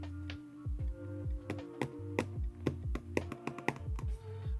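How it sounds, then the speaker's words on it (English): Quick, irregular hollow taps on a Google Pixel 7 Pro phone screen, close and crisp, like fingertips striking the display, over a low steady hum. "when you hit it, you hear this hollow sound"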